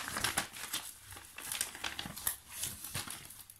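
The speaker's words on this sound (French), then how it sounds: "on va couper tous les scotch" Close, quiet crinkling and scraping of tape and packaging, with short irregular rips and rustles.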